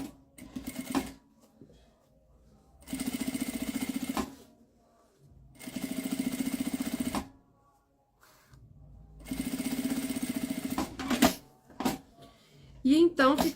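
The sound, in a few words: sewing machine stitching a pouch seam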